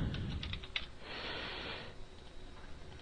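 Quick, quiet keystrokes on a computer keyboard, a short flurry of light clicks close up in a hushed room with low background hiss.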